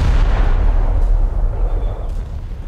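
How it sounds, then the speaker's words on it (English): Heavy, rumbling battleship main gun fire from an Italian dreadnought in War Thunder, a dense, loud low boom that rolls and fades slowly with no talk. "You could fire one of your guns every one and a bit seconds, and that's a pretty good ripple fire"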